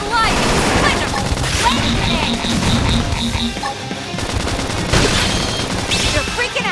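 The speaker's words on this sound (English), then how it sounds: "Topple them with gunfire!" Rapid gunfire in the video game Xenoblade Chronicles X, loud dense bursts of shots and impacts mixed with game music and voices calling out over the action.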